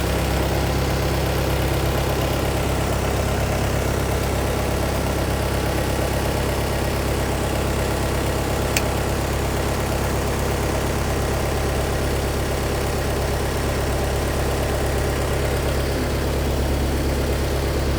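A Skaut TY404 mini tractor engine idles steadily, a loud, even low rumble with constant vibration and no pauses, heard close up for the whole stretch.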